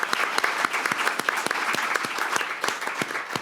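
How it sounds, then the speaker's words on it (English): An audience applauds warmly at a public event after a guest is welcomed on stage, a dense, steady patter of many hands clapping close by, with no voices over it. "It's just fun to come out and clap people, isn't it?"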